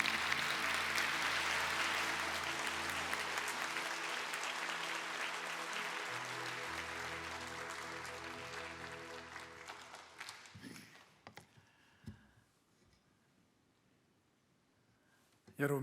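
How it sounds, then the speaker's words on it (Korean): A church congregation claps to welcome the pastor at a Korean evangelistic festival service, loud sustained applause that gradually fades out, leaving a few scattered sounds and near quiet. "목사님 나오셔서 말씀을 전해주실 때에 세우신 하나님께 영광의 박수로 환영하도록 하겠습니다"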